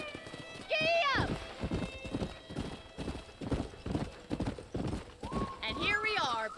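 Hoofbeats of a galloping horse in the video game Red Dead Redemption, a rapid rhythmic clip-clop running throughout, with loud whinnies near the start and the end.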